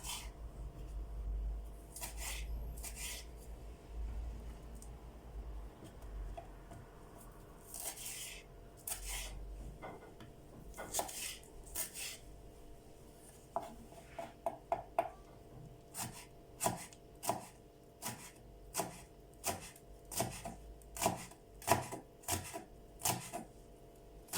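A knife chops tomatoes and a green pepper on a board, starting with soft, irregular cuts and then settling into a steady run of sharp, evenly spaced chops close by, with no talking.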